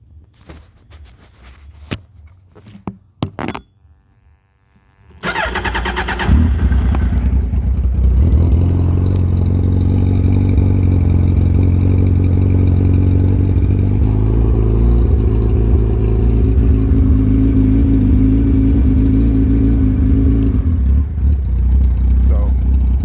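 A 2005 Suzuki Hayabusa GSXR 1300R with a muffler delete and shorty pipes cranks with a few starter clicks, then fires up into a loud, steady, raspy idle that runs continuously, close by and unmuffled.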